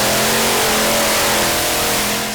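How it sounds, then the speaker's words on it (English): Tractor pulling competition machine powered by five Oldsmobile engines roaring at full power during a pull, a loud, sustained engine blare that holds steady before easing slightly at the end. "The 5 Oldsmobile are belting out the power."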